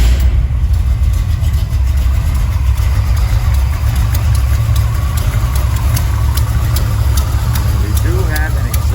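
A 1969 Chevrolet Chevelle engine with an exhaust header leak runs at a steady low idle, a constant close rumble throughout with a faint voice briefly under it.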